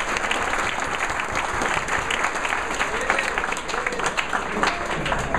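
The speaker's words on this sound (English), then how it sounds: "You can applaud Shalom Shafner." A synagogue congregation at Kesher Israel applauds warmly during a rabbi's installation ceremony: sustained, full-room clapping, loud and even throughout.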